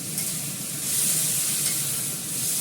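Food fries in a pan after turmeric is added, producing a continuous close sizzle that swells slightly midway through the short stretch.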